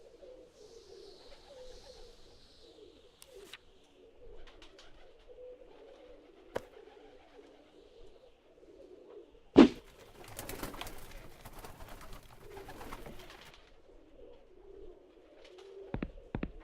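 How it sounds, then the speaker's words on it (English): Pigeons cooing in the point-and-click video game Randal's Monday: soft, repeated low coos carry on steadily and quietly, broken by a sharp thud and a burst of noisy rustling partway through. "Those pigeons look hungry and they're looking at me funny."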